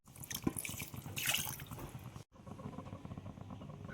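A large chembu cooking pot is rinsed with water after rice was cooked in it in a village home. Quiet splashing and trickling water is heard, with a brief drop-out partway through and no speech.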